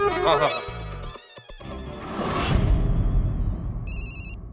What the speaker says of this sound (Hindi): अरे आसाराम, वो मैनेजर ने नंबर दिया है ना, उस पर फोन लगाओ।